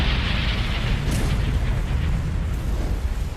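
Massive volcanic eruption blast hurling lava high into the air, a loud continuous roaring rumble with deep booming low end and hissing noise throughout, sustained without pause.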